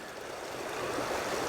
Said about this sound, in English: You can kind of see there is water flowing out of the pipe